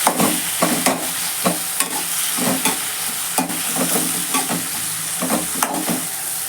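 Tomatoes stirred into sautéing onions in a pan for rava kichadi give a steady loud sizzle, broken by repeated scraping strokes of a spoon against the pan.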